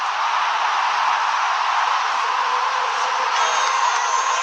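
Roaring cricket crowd of close to 120,000 supporters at an India vs New Zealand final, a steady dense wash of cheering and noise with no breaks.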